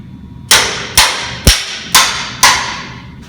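A metal jump ring clamped in a vise is tapped with a hammer, giving five loud, sharp metallic strikes in an even rhythm about half a second apart, each ringing briefly.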